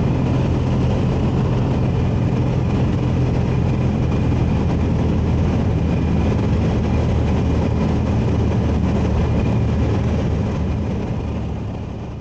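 A Falke SF-25C motor glider rolls over a rough grass strip at Warwick. Its engine gives a loud, steady drone with continuous rumbling and rattling from the bumpy ground, and the sound eases slightly at the end.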